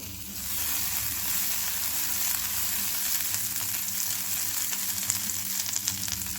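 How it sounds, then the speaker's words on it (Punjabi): Butter sizzling steadily in a hot pan while making a banana sandwich, a continuous bright frying hiss that starts within the first half second and holds at a close, even level with no talk. "ਪੈਨ ਹੋ ਗਿਆ ਹੋਇਆ ਗਰਮ ਤੇ ਹੁਣ ਅਸੀਂ ਇਹਦੇ ਵਿੱਚ ਲਗਾਉਣਾ ਜੀ ਆਪਣਾ ਬਟਰ"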